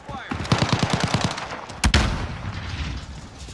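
Rapid automatic gunfire from a Call of Duty match on Rebirth Island, a bursty machine-gun rattle followed by a single sharp loud shot, with a voice talking over it.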